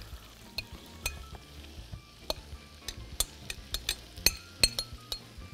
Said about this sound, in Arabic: يلا هلا اللحمه راح احطها، راح اطبخها لحال